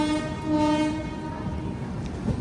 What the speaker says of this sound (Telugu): వచ్చింది మనకి సిగ్నల్, మన బండి వెళ్తుంది